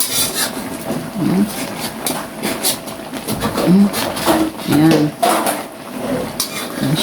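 Adobong tilapia with kamias is stirred in a frying pan, a spatula scraping and knocking against the metal in irregular close strokes, with soft voices and murmurs in between.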